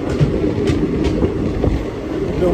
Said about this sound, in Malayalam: രാവിലെ മെമു ട്രെയിൻ ആണ് ഉള്ളത്.